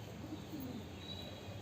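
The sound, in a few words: pigeons cooing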